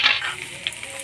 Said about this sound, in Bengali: তেল গরম হয়ে গেছে, দিয়ে দিব শুকনো লঙ্কা, পাঁচফোড়ন, তেজপাতা, থেতো করা আদা।